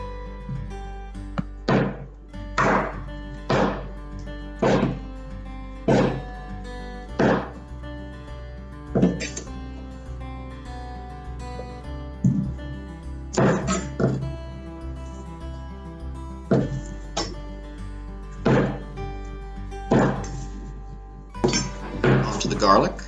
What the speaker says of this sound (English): Next, we're going to slice some mushrooms.